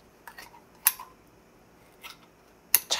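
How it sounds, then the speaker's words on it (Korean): Scissors snip open the belly of a squid during cleaning, three or four sharp crisp clicks spaced irregularly, close up and quiet in between, with no talk. "한치 손질은 그냥 가위로 그냥 배를 쑥 잘라줘요"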